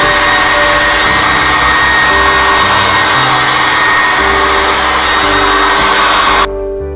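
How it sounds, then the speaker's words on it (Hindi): A hair dryer blows loudly and continuously over a watercolor painting, a close, steady roaring whoosh that cuts off abruptly near the end, with no voices. "इसको हम हेयर ड्रायर से थोड़ा सा"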